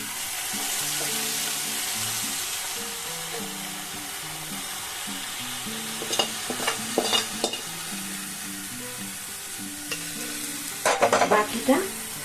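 Carrot halwa with thickened milk is stirred in a pan, a soft sizzle under repeated scraping and spoon strokes, with clusters of sharper clinks and scrapes around the middle and again near the end.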